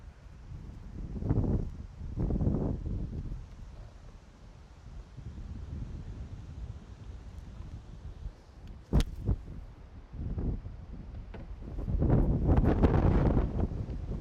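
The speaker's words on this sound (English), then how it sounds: "It's obviously a windy day today" Gusting wind buffets the microphone in uneven low rumbling surges, swelling and fading, with a few sharp knocks partway through.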